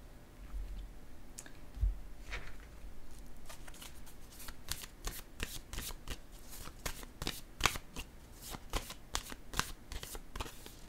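A tarot deck is shuffled repeatedly, then cards are laid down: crisp, rapid card riffles and sharp clicks close by, building into a dense rhythmic run with no talking.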